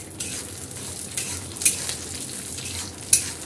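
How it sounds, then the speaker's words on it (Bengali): Raw shelled peanuts fry in a pan with a steady close sizzle, and a utensil scrapes and clicks against the metal now and then as they are stirred. "এখানে আগে কিছু চীনা বাদাম ভেজে নিব। চীনা বাদামগুলো দিয়ে দিলাম।"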